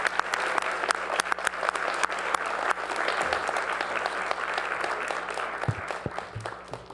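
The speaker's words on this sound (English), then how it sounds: "So can we give her a round of applause for Madison Valentine, Explorer of the Year?" Loud, sustained applause from a large audience at a Palo Alto City Council meeting, dense clapping filling the whole stretch without pause.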